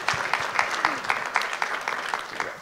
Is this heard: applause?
yes